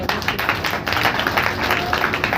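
A congregation claps together at a Saturday power meeting of a Hindi-speaking church, a continuous, close, even patter of many hands that fills the whole stretch.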